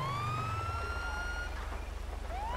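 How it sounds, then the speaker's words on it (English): A police car siren wails in the GTA V video game, a loud rising and falling tone that sweeps up and down through the clip beneath a low engine hum. "let's turn on only sirens and lights"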